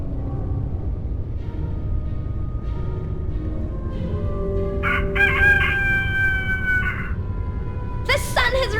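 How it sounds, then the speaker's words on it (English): Rooster crowing in the PC adventure game A Vampyre Story, two loud cock-a-doodle-doo calls over a steady low rumble of background music, with a short tonal flourish between them. "The sun has risen and the rooster crows."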